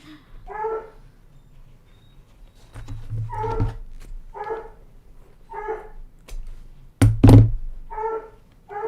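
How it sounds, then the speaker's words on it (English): A pet dog indoors gives a series of short, evenly spaced barks, one roughly every second, with a heavy thump or knock loudly breaking in near the end. "Coco will stop barking as soon as Dave gets in the house."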